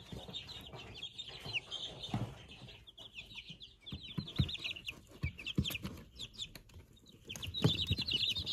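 A group of cold chicks huddled together in a box brooder cheep in a steady stream of thin, high peeps close by, with occasional soft rustling and bumps underneath.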